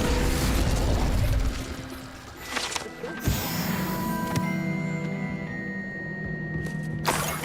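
A fire spell is cast in Hogwarts Legacy, giving a sudden burst near the three-second mark with a whooshing, crackling flare that settles into a lingering magical hum and faint chimes over continuous background ambience.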